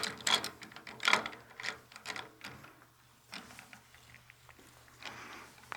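A wood blank is seated in a lathe chuck and tightened, giving a string of light metallic clicks, ratcheting and rattling knocks, close but fairly quiet, with no talking.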